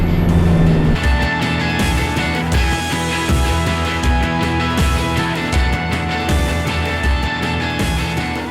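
A car rolling through a car park at Champagne Pools on Fraser Island, a loud, steady engine rumble with road and tire noise heard from inside the vehicle, no voices.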